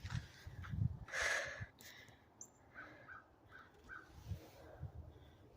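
A hawk calls outdoors: one loud, harsh cry near the start, then several fainter, shorter calls spread across a quiet, breezy background.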